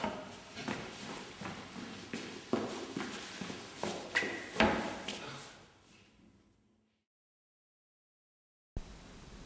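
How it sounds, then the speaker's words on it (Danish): Quick footsteps during a timed physical test, walking rapidly around a cone and back to sit on a chair; a steady run of firm steps, fairly close, fading to silence before a brief bump at the end. "går så hurtigt som muligt rundt om kejlen, tilbage igen og sætter dig"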